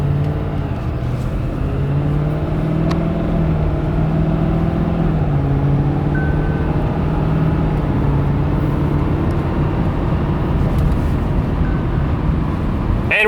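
A 2020 Ford F450 Powerstroke diesel truck pulls away and climbs toward speed limit, its engine drone rising and dropping with repeated gear shifts, loud and continuous from inside the cab.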